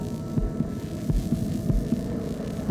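A marine iguana's heart beats slowly while it dives, each beat a deep, soft double thump over a steady underwater hum. About five or six beats come at an even, unhurried pace. No talking.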